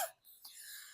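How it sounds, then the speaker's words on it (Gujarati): A single short, fairly faint cough bursts out at the very start, then fades into quiet room noise. "અરે આ ઉધરસ તો મારું હાવ લોહી પીધું, 15 દી થયા છેલ્લે છે"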